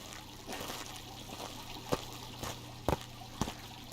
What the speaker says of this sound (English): there's a fountain here